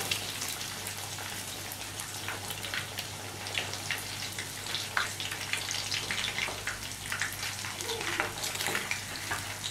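Pieces of rohu fish frying in plenty of hot oil in a wok, giving a steady, dense crackle and sizzle with scattered pops throughout.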